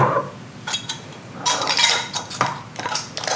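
Metal canning rings being put onto warm glass jars of peach jam, a series of light clinks and scraping taps that come irregularly and close by, busiest in the second half, with no talk.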